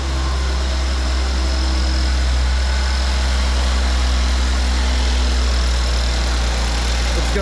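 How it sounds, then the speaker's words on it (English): A 2018 Mercedes-AMG E43 with RENNtech tuning idles during a cold start, holding slightly raised revs in a loud, steady, continuous drone with a deep low hum and no voices. "It's going through its cold start cycle, so it's going to hold a little bit of revs."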